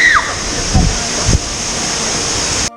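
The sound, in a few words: waterfall in Guanacaste, Costa Rica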